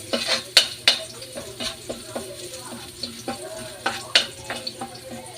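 Garlic frying in a pan until golden brown while being stirred for a Filipino mung bean stew, with a steady sizzle broken by repeated scrapes and clinks of a utensil against the pan, close and fairly loud.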